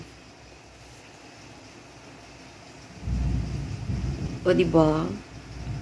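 Heavy rain pours outside a house during a cold, rainy morning, and a deep roll of thunder rumbles in from the middle onward, with a voice speaking briefly over it.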